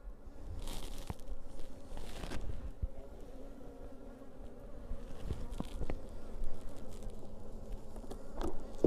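Honey bees buzz steadily around an open hive during an inspection, a dense continuous drone with scattered sharp crackles and rustles of frames, no voices.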